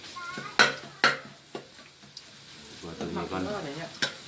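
Curry paste for spicy stir-fried rice-field eel fries in a wok with a soft sizzle, punctuated by several sharp metallic clanks of a spatula scraping and stirring at uneven intervals.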